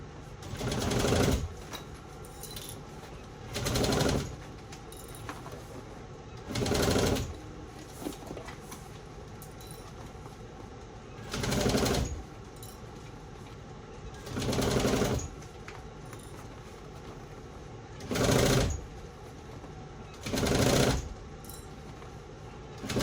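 A sewing machine back-stitches a shoulder bag in short repeated bursts of fast, steady whirring, each lasting about a second, separated by quieter gaps of low hum, close and clear.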